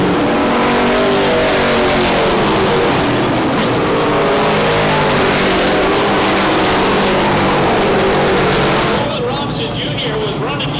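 Race cars roaring around the Beach Ridge track, a dense, continuous loud engine drone with revving swells as the pack passes close, likely with commentary voices under the noise.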